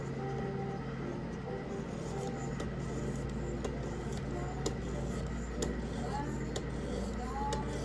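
A Buck 119 knife is drawn across a sharpener to work the bevel, giving faint, regularly spaced scraping strokes over a steady low background hum.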